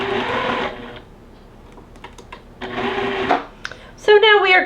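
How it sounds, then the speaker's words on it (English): Sewing machine stitching pink fabric pieces for a quilt block, two short bursts of fast motor-driven stitching separated by a pause, close and moderately loud, with someone speaking between and after the runs. "And then we're going to rotate and sew the other pink one."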